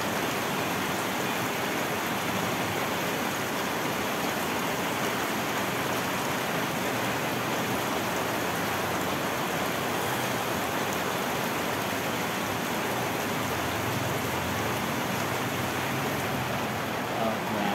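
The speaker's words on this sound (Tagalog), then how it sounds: "Sobrang lakas ng ulan." Dense, steady downpour of heavy rain, a continuous loud hiss with no breaks, like rain pounding on surfaces nearby.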